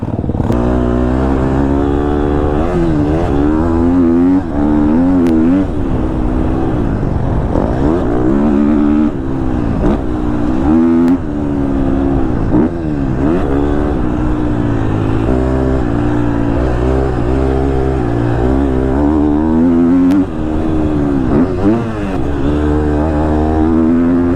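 A 2022 KTM 250 SXF four-stroke motocross bike revs hard and close, its engine note climbing and dropping continuously through repeated throttle bursts with no pauses.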